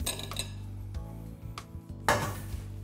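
Jersey Royal potatoes are turned through flavoured mayonnaise in a bowl, giving soft wet stirring with clinks and knocks of a utensil against the dish, close up and without speech.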